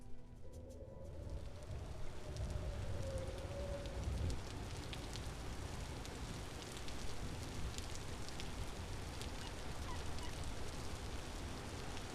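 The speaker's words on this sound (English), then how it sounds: "I like how it's raining and we're technically in a desert." Rain in the video game Vintage Story falls over a desert landscape as a steady, dense hiss of drops that continues evenly throughout, with no talking.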